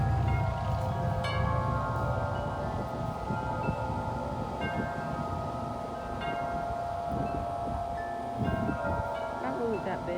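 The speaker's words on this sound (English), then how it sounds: "There's some big winds coming." Strong wind roars across the microphone outdoors on a very windy day, a continuous loud rumbling buffet with gusts and rustling and no talking.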